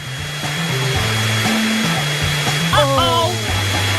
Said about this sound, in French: Mon sèche-cheveux super puissant va tout réparer